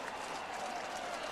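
A lacrosse stadium crowd of over 14,000 applauding, a dense wash of clapping and crowd noise from a distance, steady throughout the short moment.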